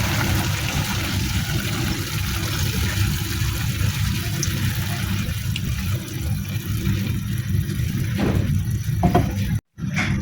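Milk poured into a pan of sautéed mixed vegetables, potatoes and mushrooms: a steady, close liquid pour lasting several seconds, ending with a few small splashes and a brief dropout.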